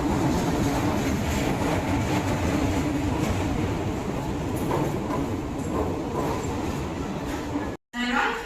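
A passenger train on the rails makes a steady, loud rumble and rattle throughout, with a brief dropout near the end before the noise resumes.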